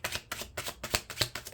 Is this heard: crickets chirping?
no